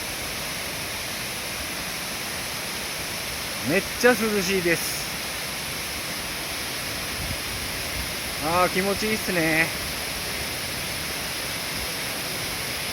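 Shirami waterfall in Oita roars as steady broadband rushing water throughout, loud and close, while people speak briefly over it twice.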